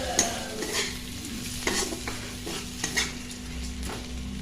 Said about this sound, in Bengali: এবার আমি এখন এই ওটসটা দিয়ে দেবো। এটা দিয়ে আমি 2-4 হাতা ভালো করে নেড়ে নেব।